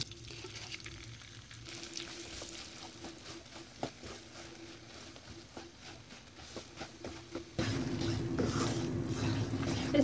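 Gram flour roasting in ghee in a pan for besan barfi, a soft steady sizzle with scattered scraping clicks of a spoon stirring, growing louder and denser near the end, no talking.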